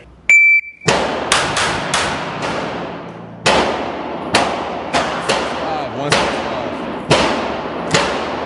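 A Springfield Armory Hellcat .380 pistol fires about nine loud, close shots at uneven intervals, each a sharp crack with a short decaying tail, after a brief electronic beep at the start.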